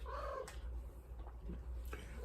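A cat purrs up close with a continuous low, soft rumble that holds steady, broken only by a couple of faint brief noises.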